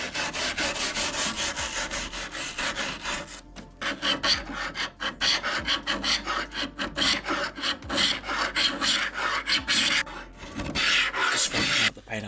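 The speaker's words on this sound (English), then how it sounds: "I'm probably just going to have to scrape that off instead and wire brush it down." Old finish being scraped and wire brushed off an antique art deco wooden dresser: loud, close, continuous rasping strokes, then a choppier run of quick back-and-forth scratching with brief pauses.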